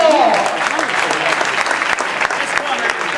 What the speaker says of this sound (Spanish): ¡Vamos a ese aplauso!